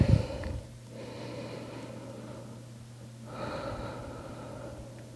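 Slow, deep breathing by a pregnant woman during a pelvic floor exercise: a soft inhale and a long exhale, close and quiet, alone with no talk.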